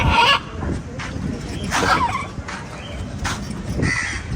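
Several birds give harsh, cawing calls in short bursts spaced a second or so apart, set against outdoor background noise on Maafushi island in the Maldives.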